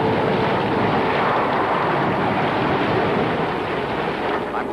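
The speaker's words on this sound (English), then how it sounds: "This storm is the worst I've ever seen." Storm wind roars over crashing Pacific ocean waves in a dense, steady wash of loud broadband noise, a sound effect from an old adventure film serial.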